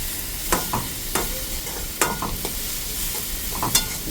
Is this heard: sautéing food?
yes